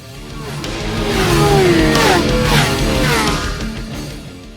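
A Bristol Bobber 650 motorcycle engine roars loud and close, swelling as it revs and sweeps past with rising and falling pitch, then easing off.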